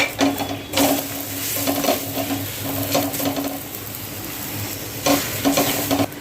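Onion paratha fries in a pan with a continuous loud sizzle, broken by scraping and clattering bursts as the flatbread is stirred and flipped; no one speaks.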